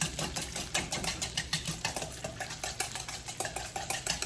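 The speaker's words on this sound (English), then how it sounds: "And I'm gonna whisk just like a tablespoon." A wire whisk beats a small amount of olive oil into a lemon vinaigrette in a bowl, making quick, steady rhythmic clicks and scrapes against the bowl, close up, with no talking.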